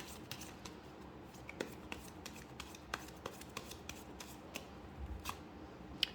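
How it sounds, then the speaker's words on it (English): Tarot cards shuffled by hand and one card drawn, a soft steady rustle broken by short crisp flicks and snaps at an uneven pace, close and quiet with no talking. "I want to take one more card for you."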